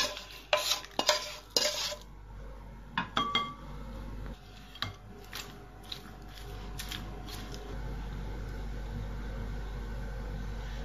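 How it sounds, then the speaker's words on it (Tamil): Masala is stirred into cooked rice for lemon rice, a burst of quick metallic scrapes and clatters of a spoon against the vessel early on, then sparser stirs fading into a low steady hum, close and without speech. "இப்ப சாப்பாடுல போட்டு கிண்டிடலாம்"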